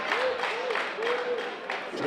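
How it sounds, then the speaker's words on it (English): Live crowd noise at a wrestling event: a steady roar of cheering and shouting from a packed audience with a few whistles, continuous and broad throughout. "Seems like they're kind of cheering on both men"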